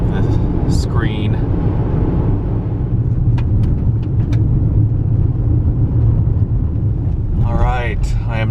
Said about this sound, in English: I'm driving up to find a campsite somewhere in these mountains.